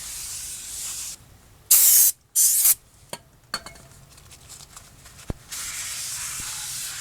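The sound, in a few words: spraying brake cleaner on brake rotor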